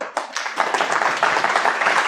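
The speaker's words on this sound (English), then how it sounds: "I don't even have to tell you to applaud anymore" A conference audience claps after a security talk, giving a short burst of dense, steady applause.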